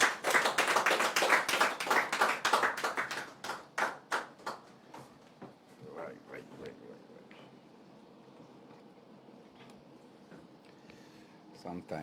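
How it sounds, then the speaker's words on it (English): Studio audience claps to welcome a guest onstage at a Ghanaian televised discussion show; loud dense clapping for about three seconds thins into scattered claps and fades into quiet room tone. "With a resounding round of applause, help me invite upstage Bernard Mornah."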